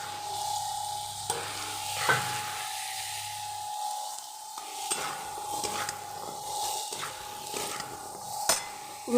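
Cut potatoes and dry spices fry in a pan with a soft, ongoing sizzle, punctuated by irregular scrapes and knocks of stirring, fairly quiet and close, with no talking.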